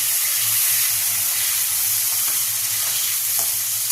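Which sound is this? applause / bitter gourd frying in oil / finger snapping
bitter gourd frying in oil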